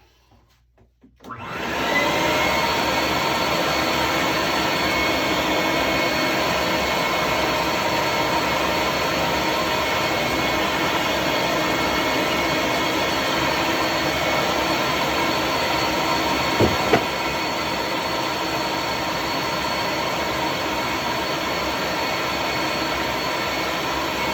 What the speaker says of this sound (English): I'm going to give it one more sucking with the vacuum.